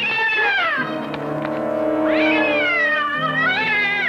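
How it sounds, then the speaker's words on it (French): A cat meows loudly and close by in long, wavering cries, three drawn-out calls in a row with a brief pause between them. "Ça, c'est un énorme chat."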